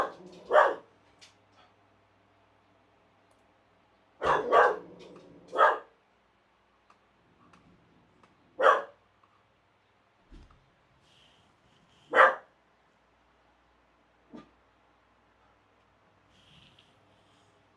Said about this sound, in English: And that'll be the dog that you guys can hear now,